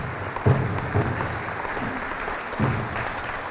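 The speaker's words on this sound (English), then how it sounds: "let's give him a round of applause" Round of applause at a tribal college graduation ceremony, a crowd clapping steadily for a few seconds with a few louder bursts and faint low sounds under the patter.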